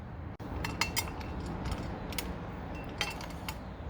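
Faint metallic clinks and light ticking as a screw and washer are threaded by hand onto an Evo Tech radiator guard on a Triumph Street Triple 765 motorcycle, quiet and close with no talking.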